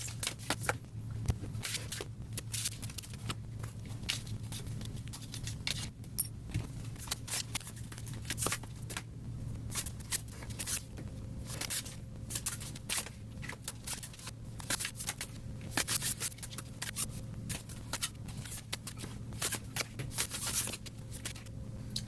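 Tarot cards are shuffled and laid out on a table in a long run of soft, rapid riffling and snapping over a faint steady hum, close and quiet with no talking.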